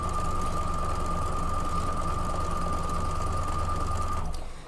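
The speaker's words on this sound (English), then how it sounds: "I can just line up the edges and sew it on there." A sewing machine stitches fabric for a quilt block, a steady, close mechanical whir running evenly for several seconds before stopping abruptly.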